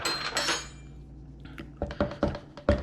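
A knife clinks and scrapes against a jar while stirring creamy peanut butter, a soft smeary rustle at first, then four or five distinct close taps and clinks spaced unevenly toward the end, with no talking.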